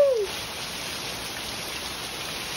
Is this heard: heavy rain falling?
yes